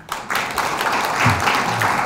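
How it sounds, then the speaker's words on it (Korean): Applause from a conference audience for Dr. Bennett at a seminar on North Korea, clapping swelling in after a brief pause and continuing evenly, with a low voice murmuring underneath. "베넷 박사님께 박수 부탁드리겠습니다."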